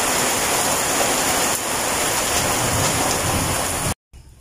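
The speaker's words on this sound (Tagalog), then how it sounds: "at malakas na naman po yung ulan" Heavy rain pours down steadily as a dense, loud hiss with possible distant thunder, continuous until it cuts off abruptly near the end, at a Philippine construction site where concrete posts have just been poured.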